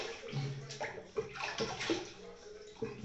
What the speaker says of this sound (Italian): allora mi sciacquo un attimo